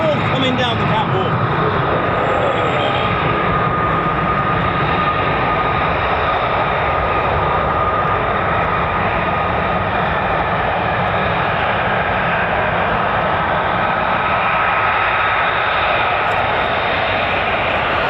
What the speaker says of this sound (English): Oh, F-15s as well, look at this.